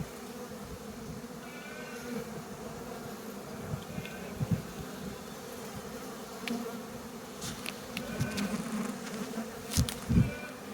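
Honey bees swarm around an open hive frame of honey and nectar, a dense steady buzz close by with occasional louder passes of individual bees, no voices present.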